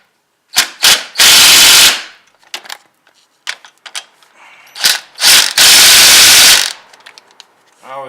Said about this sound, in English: ratchet just to make sure they're tight enough